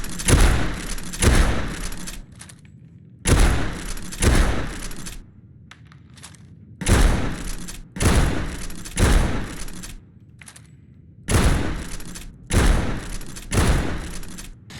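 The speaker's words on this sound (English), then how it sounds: "here are the firing sounds and animations for all the guns" Lever-action rifle gunshots from a Fallout 4 weapons mod, loud booming reports fired in spaced groups of two or three, each followed by a short clack of the lever action and brief quiet gaps.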